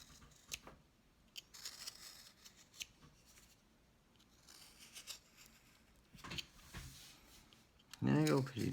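A knife carving a small V-cut groove into wood for a cowboy bolo tie hat, giving quiet intermittent scraping and slicing strokes close by, with a voice talking near the end.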